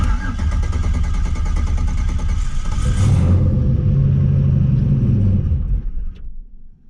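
A big turbocharged LS V8 engine cranks and fires up with a deep, loud rumble, settling briefly before sputtering and fading out near the end, failing to stay idling.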